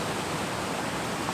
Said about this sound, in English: of this waterfall here at Snow Creek